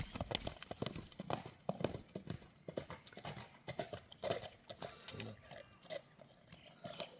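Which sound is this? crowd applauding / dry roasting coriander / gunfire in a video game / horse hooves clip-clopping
horse hooves clip-clopping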